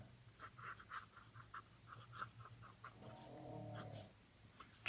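A fine-nib pen scratches across Tomoe River paper in quick, faint strokes close by, with a brief low rustle midway through.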